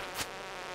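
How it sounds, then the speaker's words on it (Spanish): A brief buzz from flies in the video game Stardew Valley swells once and fades within a fraction of a second over a steady game background hiss. "Las moscas estas de los huevos."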